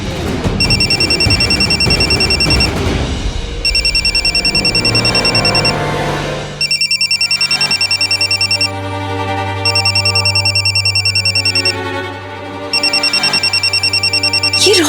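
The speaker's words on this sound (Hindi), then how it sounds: "ये रोशनी विशेष जी को इस वक्त क्यों फोन कर रही?" A phone rings loudly with an electronic trilling ringtone that repeats in bursts with brief gaps, over dramatic background music in a Hindi TV serial scene.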